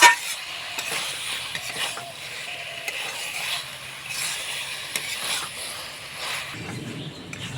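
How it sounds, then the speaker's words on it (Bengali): Vegetables with spices being stirred and cooked in a pan, heard as a continuous close scraping and rustling with a soft sizzle underneath and occasional light clicks of the spoon. "মশলা দেওয়ার পরে সবজিটাকে ভালোভাবে ফুটিয়ে নেব"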